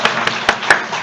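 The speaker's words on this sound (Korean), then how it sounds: "우리 하나님께 우리 영광의 박수 한번 돌려드리겠습니다." Congregation in a church service clapping together, a short burst of applause with a few sharper claps standing out at a steady moderate level.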